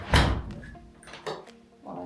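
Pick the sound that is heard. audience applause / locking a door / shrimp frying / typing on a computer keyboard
locking a door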